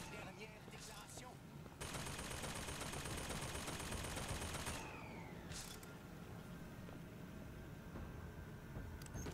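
Machine-gun fire in the video game BioShock Infinite: a dense, sustained burst of rapid shots lasting about three seconds, set against steady game background noise.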